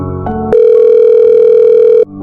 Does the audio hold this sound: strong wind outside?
no